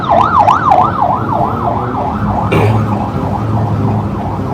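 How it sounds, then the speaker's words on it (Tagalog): An ambulance siren wails in a rapid rising-and-falling pattern, loud and near, over low traffic rumble, with a brief thud midway. "Ano yung ambulansya?"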